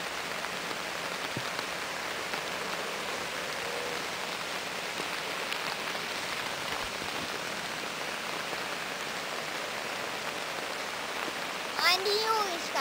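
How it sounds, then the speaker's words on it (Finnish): Heavy rain shower pouring steadily during a thunderstorm in Hämeenlinna, Finland, a dense, even wash of drops on surfaces throughout, with a brief chirp near the end. "Muuta kuin rankkaa vesisadetta."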